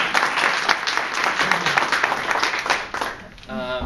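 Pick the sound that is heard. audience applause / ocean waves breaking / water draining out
audience applause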